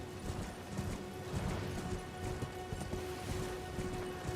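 Steady clip-clop of Torrent's hooves from Elden Ring, a brisk galloping rhythm that runs continuously at moderate volume over a bed of ambient game noise, with no voices present.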